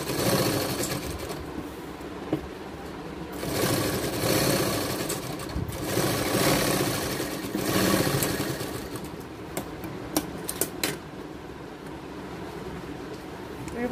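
A sewing machine stitches a baby gown in bursts, its motor whirring steadily for a few seconds at a time before pausing, heard close with someone talking over and between the runs.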